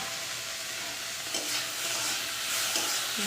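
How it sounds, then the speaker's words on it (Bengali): Fish curry with bitter gourd being stirred in a pan, a steady bubbling sizzle with a few soft scraping strokes of the spoon rising and falling. "নাড়তে থাকবো"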